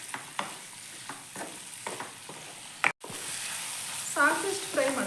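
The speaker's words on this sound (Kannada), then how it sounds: "ಟೊಮೊಟೊ ಮೆತ್ತಾದ ತನಕ ಫ್ರೈ ಮಾಡ್ಕೋಬೇಕು" Tomatoes frying in a pan for chicken gravy, a soft sizzle with periodic stirring scrapes and clicks, one sharp knock, and a brief muffled voice toward the end.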